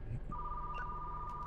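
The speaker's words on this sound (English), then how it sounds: "And now we got the phone ringing." In the video game Retro Rewind, a phone rings with a steady electronic tone that holds over a low background hum, fairly quiet and with no talking.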